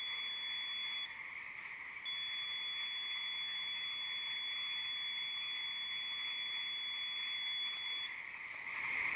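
A Nerf flashbang-style grenade with a strobe gives a steady, piercing electronic squeal that pauses briefly and then resumes. A loud outdoor night chorus of frogs continues underneath.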